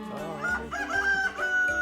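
A black non-native rooster on a farm in Iloilo gives a loud, close cock-a-doodle-doo that lasts nearly two seconds, with harsh, rising and falling calls.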